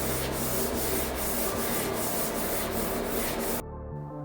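A scratched van panel being sanded with 240 grit paper, a loud, steady rasping rub with a quick back-and-forth rhythm, close by, stopping abruptly near the end, with no talk.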